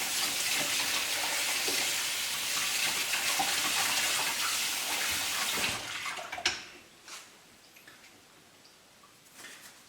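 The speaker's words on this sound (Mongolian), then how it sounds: "За ингээд шош маань усаар угаагдаа жоохон цэвэрлэгдэж байх хооронд" Tap water runs in a steady, strong stream over beans being washed in a kitchen, then cuts off after about six seconds, leaving a few faint drips and clinks.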